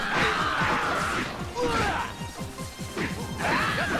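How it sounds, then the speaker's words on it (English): Repeated heavy smashing impacts as a character swings a spiked club through enemies in Warriors Orochi 3, a rapid series of crashes and whooshes with battle grunts layered over a dense game mix. "his club just grew spikes. And he goes smashing around until the Musu bar is empty."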